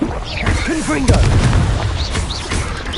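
Confringo fire spell blasting during Hogwarts Legacy combat, a sharp booming impact around the middle followed by rumbling combat noise, with game voices chirping over it.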